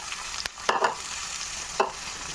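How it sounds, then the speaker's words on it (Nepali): Bitter gourd frying in a pan with turmeric and red chilli is stirred in a few distinct scraping strokes over a steady close sizzle, with no talking. "अब चाहिँ करेला चलाइदिउँ।"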